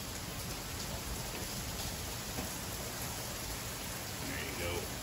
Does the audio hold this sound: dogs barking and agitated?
no